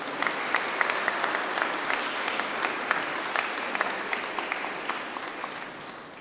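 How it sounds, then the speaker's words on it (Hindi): Parish congregation at a church feast day clapping loudly to thank a visiting bishop, dense sustained applause from a large crowd, steady for the whole stretch with no voices. "जोरदार तालियों से स्वामी जी को धन्यवाद दें"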